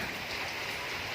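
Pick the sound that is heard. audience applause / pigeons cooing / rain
rain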